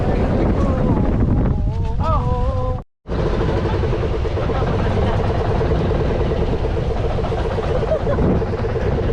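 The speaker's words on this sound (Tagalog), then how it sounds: "Lakas pa ng alon." Strong wind and sea waves buffet a small fishing boat out on open water, with a steady broadband roar throughout, a brief dropout near the middle, and people talking and calling out over the noise.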